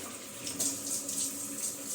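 Cold tap water pours steadily into a container to cover salt cod for soaking, a continuous close splashing rush with slight surges and no talk.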